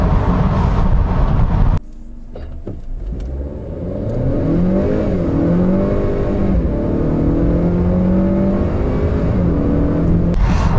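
A Honda Accord 2.0 turbo Sport pulls away hard in a 0-100 km/h run on a rough road surface, the engine note rising through several gear changes after a sudden drop, loud and close with no talk.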